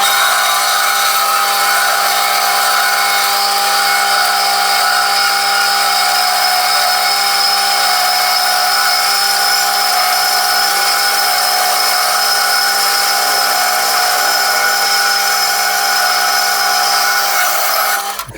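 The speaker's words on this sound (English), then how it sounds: "I'll go over to the bandsaw and I'll cut it off to 40mm long" A bandsaw runs steadily and loudly throughout, a continuous high-pitched whine of a blade cutting through a metal part, stopping abruptly at the end.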